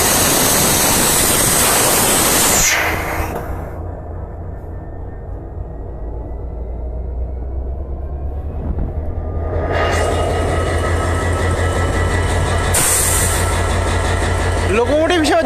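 A train passes near a railway station, with loud broadband rumble and hiss that drops away mid-way to a low engine hum, then swells again as rolling stock returns close by.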